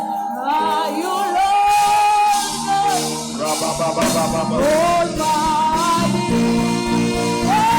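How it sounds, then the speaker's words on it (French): Worship congregation crying out and shouting together, a loud continuous swell of many voices blended with music, rising and falling in waves throughout. "Et maintenant même, commence à pousser des cris."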